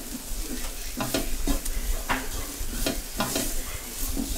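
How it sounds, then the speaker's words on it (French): Flour is stirred into a sauce in a pan, with a steady sizzle under repeated scraping strokes of a utensil against the pan, close and fairly loud, without talking. "je vais ajouter la farine que j'ai mis de côté au dessus et je vais mélanger"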